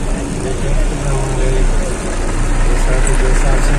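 Tractors at a Sindhi culture tractor and camel rally run with a steady, low engine rumble close by, and people talk over it throughout.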